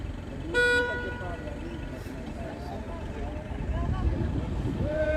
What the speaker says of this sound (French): vous entendez, ceux qui klaxonnent vont arriver